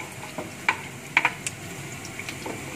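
Shallots and garlic frying in hot oil in a pan, a soft steady sizzle with a few sharp clicks and scrapes of a utensil stirring, fairly quiet throughout.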